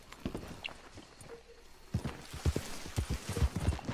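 A horse's hooves clip-clop nearby in a quick, uneven rhythm, soft at first and then louder and more regular with closely spaced hoofbeats.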